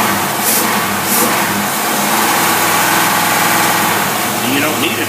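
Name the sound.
Lincoln Ford engine with Carter AFB carburetor accelerating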